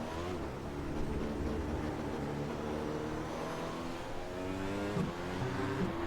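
A McLaren MP4/30 Formula 1 car with a turbo engine, driven in the iRacing simulator, drones steadily with rising and falling engine pitch over continuous in-game road noise, loud and close throughout without talk.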